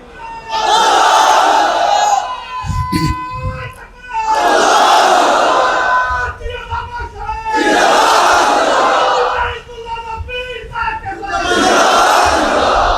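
A large crowd at the Sarsina mahfil shouts the takbir in four loud, roaring bursts. Each burst lasts about two seconds, and a single leader's voice calls out in the gaps between them.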